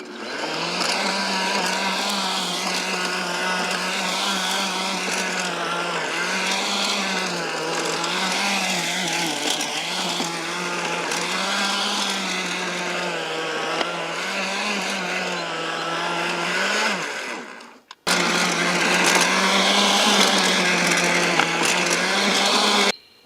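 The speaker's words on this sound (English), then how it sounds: "I just gave this tiller a test run to see how it would handle the grass" A Rock and Rocker electric tiller churns through soil and grass with a loud, steady motor whine that wavers as the tines bite, cuts out briefly near the end, then starts again.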